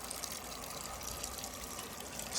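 A Panasonic 8.5 kg fully automatic top-load washing machine fills with water, a faint, steady rushing trickle heard alone for a couple of seconds.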